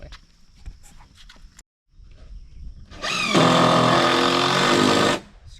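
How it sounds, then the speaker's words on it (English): A power drill screws wooden braces into an off-grid cabin wall, a loud close whirring burst of about two seconds after quieter knocks and handling noises. "Screwing the braces in."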